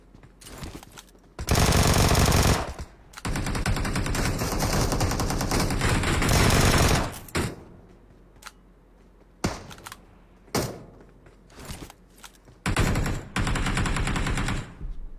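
Vector submachine gun firing in a video game, rapid automatic bursts of varying length, several long sustained strings then shorter clipped bursts, loud and close with no talk.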